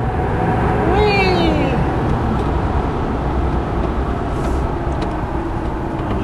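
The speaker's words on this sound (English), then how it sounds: "Got noisy tires though, aggressive tread tires are humming away." A pickup truck with aggressive-tread tires driving along, a loud steady road and tire hum filling the cab continuously, with a brief voice early on.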